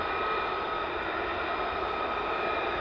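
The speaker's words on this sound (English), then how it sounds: "3 F35s now taxiing down." Three F-35 fighter jets taxi at RAF Lakenheath, a steady distant engine roar and whine holding at constant level throughout with no other sounds.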